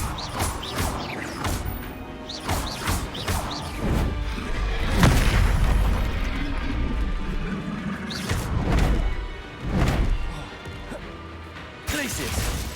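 A Bombarda blasting spell explodes in Hogwarts Legacy, a loud crashing boom near the middle of a busy stretch of combat, with sharp impacts and smashes around it and voices calling out.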